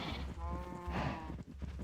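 Minecraft sheep bleats in a farm pen, one steady wavering bleat followed by a second rough one, close and alone without speech.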